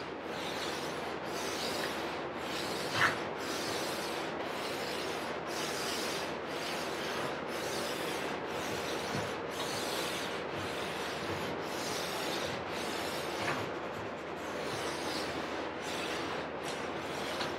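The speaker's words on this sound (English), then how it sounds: "When you're rubbing your pad over there, it kind of unloads the applicator." Applicator pad rubbing excess water-based finish off a countertop, a steady rhythmic rasping wipe with regular back-and-forth strokes about every half second, close and continuous with no talk.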